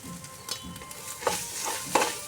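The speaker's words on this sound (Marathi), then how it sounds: "आपलं तूप चांगलं गरम झालेलं आहे आता आपण खोबरं घालून घेऊया" Grated coconut frying and being stirred in hot ghee for modak filling, with soft scraping strokes and a gentle sizzle, close and fairly quiet with no talking.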